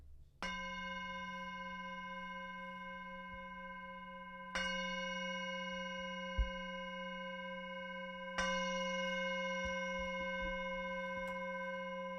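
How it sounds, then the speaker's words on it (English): A meditation bell struck three times, each clear ringing tone evenly spaced about four seconds apart and left to sustain and overlap, with a faint low hum beneath and no voices. "When you hear the bell ring 3 times, slowly open your eyes and come back into the room."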